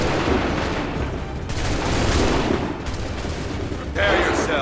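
Musket volleys crack out in a combat scene from the 2012 video game Assassin's Creed 3, dense bursts of gunfire rolling loud and continuous with shouted commands mixed in.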